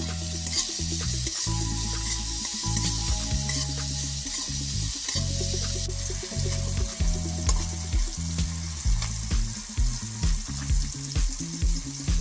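Chopped tomato and salt sizzle and fry in a pan for a cauliflower curry, with steady hissing and repeated low clunks and scrapes of a spoon stirring, no voices.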